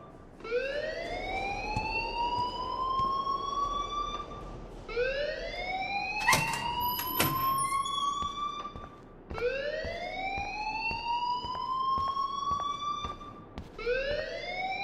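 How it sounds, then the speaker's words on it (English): A school fire alarm blares in the video game Life Is Strange, with loud rising electronic whoops that repeat in a steady cycle and continue without a break. "please turn off that alarm since that's your job"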